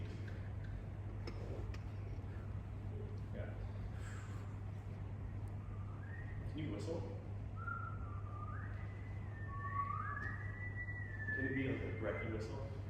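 A person whistles soft, wispy rising and sliding tones during a voice master class, several short phrases over a steady low hum with faint room noise and occasional clicks.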